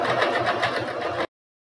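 A sewing machine topstitches fabric for a baby bib that holds a pacifier, giving a steady close mechanical whir with fast even stitching pulses for about a second before it stops.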